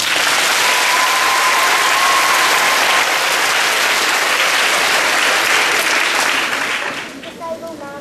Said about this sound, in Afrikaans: julle moet almal vir julleself groot hande klap